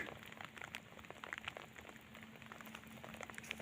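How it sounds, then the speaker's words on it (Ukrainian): Light rain begins to fall outdoors near an old Soviet barracks, a faint, soft patter of drops spread steadily across the moment, with a low steady hum beneath. "Так, починається вже дощ."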